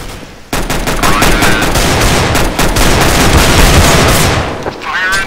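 Dense, sustained gunfire in the Counter-Strike: Global Offensive beta on the Aztec map, rapid overlapping automatic bursts and shots filling the clip after a brief quiet start, loud and close, with a short voice fragment near the end.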